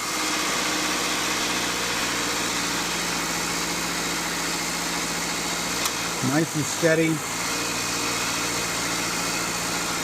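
Car engine idling steadily and close throughout, with a steady hum and a brief rougher stretch partway through; someone speaks briefly over it.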